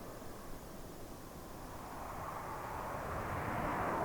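Dassault Rafale fighter jet making a short takeoff at an airshow, a faint, broad roar that swells gradually as it builds, heard from a distance without speech.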